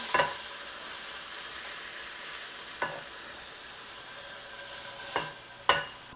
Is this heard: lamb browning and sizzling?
yes